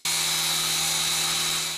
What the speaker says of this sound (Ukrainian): Застосовували навіть болгарку.